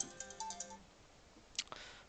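A phone ringtone chimes in a short run of repeated electronic tones, fairly quiet, then fades out and leaves faint clicking behind.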